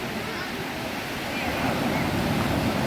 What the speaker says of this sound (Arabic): الموجه عاليه من على الشط